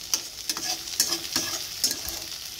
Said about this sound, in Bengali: এখানে হচ্ছে পেঁয়াজ কাঁচা লঙ্কা দিয়ে আলু বেগুন করলা ভাজা